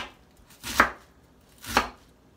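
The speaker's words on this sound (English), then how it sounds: "So I'm just gonna finish chopping up my radicchio." A knife chops radicchio on a cutting board, two separate crisp chops about a second apart with quiet pauses between, no talking.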